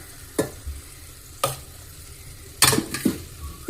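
Tomato rice being stirred in a pan, with four sharp scraping strokes of a spoon against the metal and soft rustling of rice between them, close and clear with no talking.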